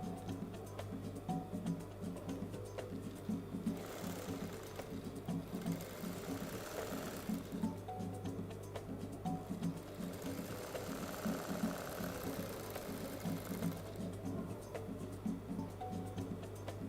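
A sewing machine runs steadily, stitching the lining of a fabric shopping bag, a fast even mechanical chatter with a faint hum underneath, close but quiet, easing briefly at a couple of points before picking up again.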